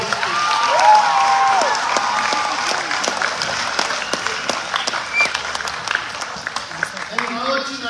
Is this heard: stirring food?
no